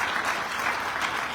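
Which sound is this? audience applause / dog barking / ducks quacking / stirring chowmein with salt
audience applause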